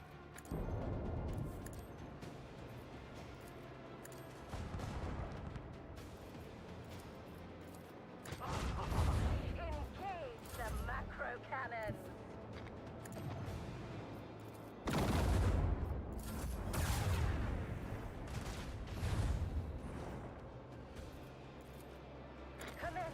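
Macro cannon artillery fire from a grimdark Dark Heresy tabletop game session rumbles continuously as a dense, booming barrage, swelling into heavy blasts at intervals and dominating the mix.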